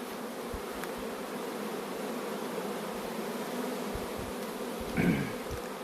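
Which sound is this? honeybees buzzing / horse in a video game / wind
honeybees buzzing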